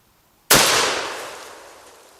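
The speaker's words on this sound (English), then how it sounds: "Alright, I'm trying some low recoil buckshot." A single sharp, loud blast from a fire-damaged Remington 1100 shotgun firing low recoil buckshot outdoors, followed by a long fading echo with no talk.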